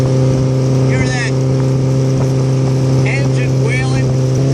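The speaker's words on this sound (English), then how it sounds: "engine wailing." A vintage Austin-Healey Sprite engine wails steadily at speed on a twisty country road, a loud sustained droning note with strong harmonics, with faint chirps of birds breaking through now and then.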